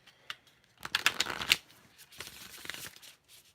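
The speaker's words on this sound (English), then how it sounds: "One more shuffle." Tarot cards are riffled and shuffled by hand close up, a crisp rapid flutter in two bursts separated by a short pause.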